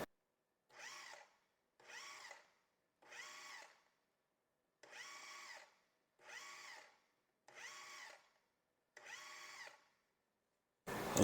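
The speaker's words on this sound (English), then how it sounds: "So I'm covering the whole top of my food processor with this towel, and we're just going to pulse this a couple of times." Food processor pulsing granulated sugar with a towel draped over the top, seven short even bursts of whirring motor about a second each with brief gaps, close and loud, then a sharp knock at the end.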